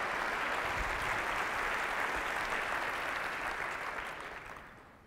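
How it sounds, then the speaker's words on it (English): A crowd applauds steadily, a dense wash of clapping that holds for several seconds and then fades out. "Let's give them a great big round of applause."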